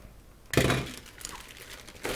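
Cardboard parcel packaging with a digital DVB-T2 TV tuner inside, torn open close by: a sharp crinkling rip followed by rustling, then another tearing burst at the end.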